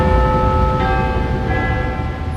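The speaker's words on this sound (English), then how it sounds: "That was the sound of Big Ben telling us the time" Big Ben's clock tower bell rings with a loud, sustained metallic tone, its long resonant hum ringing on alone.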